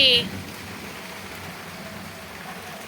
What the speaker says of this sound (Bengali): এই দুপুরবেলা বৃষ্টি পড়ছে